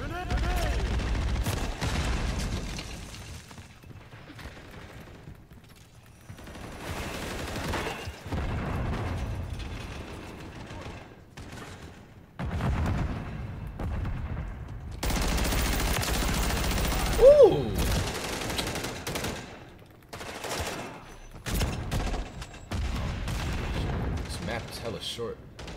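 Bursts of gunfire and heavy booms from a grenade launcher in an online shooter match, coming in loud clusters separated by quieter gaps, with a voice talking over parts of it.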